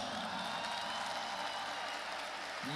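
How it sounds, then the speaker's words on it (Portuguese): A lecture audience applauds in a steady, dense wash of clapping that holds evenly throughout, fairly quiet and with no speech over it. "Parabéns, aplaudam-se."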